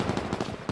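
Gunfire in a team shooter video game cracks out as a rapid string of close, loud shots in quick succession, filling the brief moment with no audible talk.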